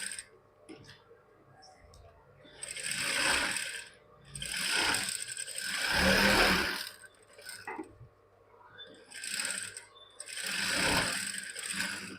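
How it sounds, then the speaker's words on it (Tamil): A sewing machine stitches a blouse patti in several bursts of close, steady mechanical whirring, each a few seconds long, separated by short pauses. "இப்போது நான் இதில் ஒரு தையல் போட்டுக்கிறேன்."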